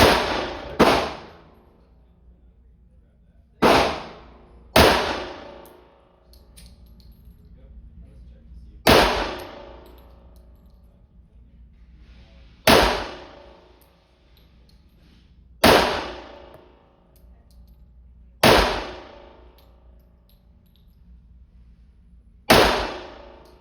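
A .45 pistol fires double taps at steel targets outdoors. Eight sharp, loud shots each ring out with a clanging metallic decay, spaced a few seconds apart, with no talk over them.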